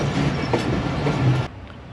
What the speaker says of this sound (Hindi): और यहाँ पे हमारा क्रॉस होगा 11 ऑफ हज़ारा एक्सप्रेस के साथ। सामने वो भी आ चुकी है